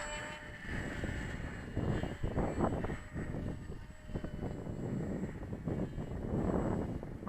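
A radio-controlled model airplane motor drones steadily in flight, flying outdoors with wind buffeting the microphone; its pitch wavers as the plane passes, with the RPM seeming to drop as the batteries run low.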